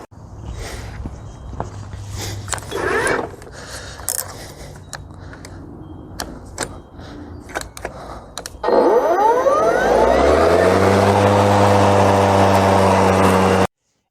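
An Ego brushless self-propelled lawn mower is started after some clicks and handling sounds, then its motor spins up with a rising whine and settles into a loud, steady electric hum.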